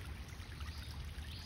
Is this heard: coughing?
no